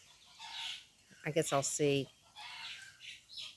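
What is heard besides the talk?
roosters crowing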